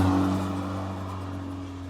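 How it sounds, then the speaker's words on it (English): A 1995 Mazda Miata Turbo M Edition with a big turbo drives along, its engine a steady, droning hum heard from inside the car, easing slightly in loudness. "I hope you enjoyed that ride along in Pokee, our 95 Turbo M Edition"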